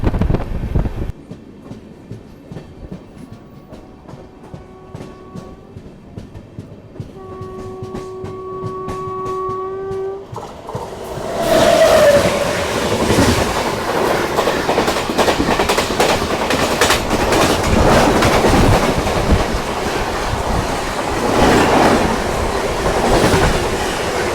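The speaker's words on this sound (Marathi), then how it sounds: "ही होती LTT विशाखापट्टणम एक्सप्रेस, जिला आपण क्रॉस केलं जेऊर रेल्वे स्टेशनच्या इथे." LTT Visakhapatnam Express passing near Jeur station: a horn sounds in two blasts, then the train rushes by loudly and close with continuous wheel rumble and rhythmic clickety-clack of the coaches.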